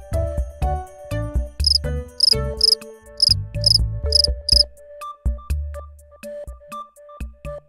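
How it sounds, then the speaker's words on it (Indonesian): Loud, shrill cricket chirps come in quick repeated bursts, close by and clear, with pauses between the runs. "Ini adalah jangkrik."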